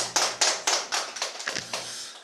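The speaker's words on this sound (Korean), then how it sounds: "감사의 박수를 한번 드리면 어떨까 싶습니다" A small audience at a church guest lecture on caged bears claps in thanks, a run of sharp, evenly spaced claps that slows and thins toward the end, close and fairly loud with a low hum beneath.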